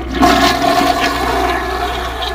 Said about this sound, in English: I was heading to one of the bathrooms to relieve myself when I heard a toilet flush